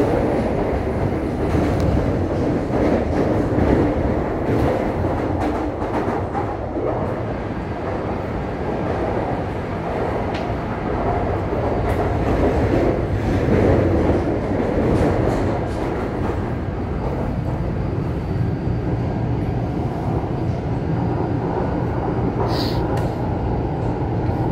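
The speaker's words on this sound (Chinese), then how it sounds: "还有新北投的支线的温泉彩绘捷运列车，" Taipei Metro hot-spring painted train on the Xinbeitou branch line at Beitou station, a steady loud rumble of steel wheels on rail with clattering as it runs, and faint talk beneath.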